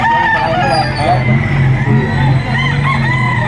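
Chickens at a poultry market in Lipa, Batangas, cluck and crow loudly and close, overlapping in busy bursts.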